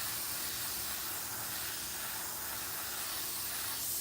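An airbrush sprays paint in a soft, continuous hiss that swells slightly in short strokes. It is close and fairly quiet, with nobody talking.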